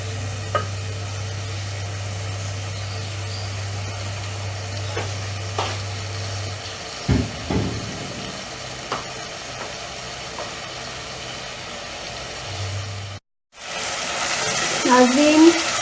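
Tomatoes cooking down in frying masala for an aloo matar curry, soft sizzling with a few stirring scrapes near the end, heard under a low steady hum with brief speech.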